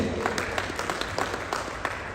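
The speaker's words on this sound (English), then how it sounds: "A big round of applause for Dr. Morris Grace." Audience applause after a speaker is introduced at a presentation of baseline findings, a steady wash of scattered claps heard at moderate distance with a faint undertone of voices.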